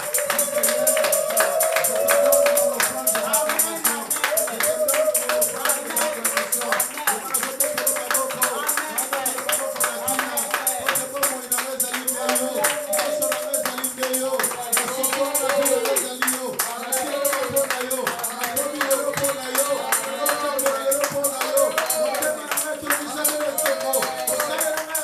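A church congregation claps in acclamation during a Sunday service, a steady rhythmic beat of many hands that runs unbroken for the whole stretch beneath voices singing or calling out.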